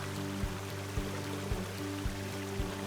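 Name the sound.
waterfall trickle effect in video game The Forest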